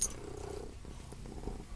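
A house cat purrs softly and steadily at close range, a low rumbling texture that stays quiet and continuous for a moment with no talking.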